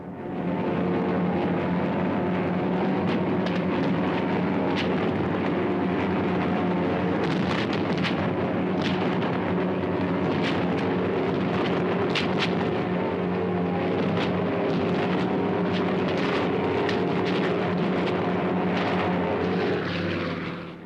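A droning mass of Royal Air Force bomber planes in a saturation raid on Cologne roars steadily and loudly for twenty seconds, with propeller engine rumble and bursts of explosions woven through, and no voices.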